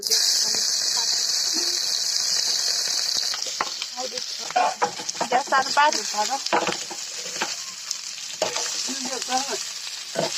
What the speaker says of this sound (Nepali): यो चाहिँ हामी फ्राई गर्न गइरहेको छु म